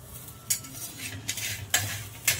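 Thalipeeth flatbread sizzles in an oiled pan after being flipped, a soft steady frying hiss broken by four sharp scrapes and clinks of a spatula against the pan.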